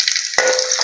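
Curry leaves hit hot oil in a pan with cumin and garlic, letting out a sudden loud sizzle that begins as a few crackles and then holds as a steady hiss, close by.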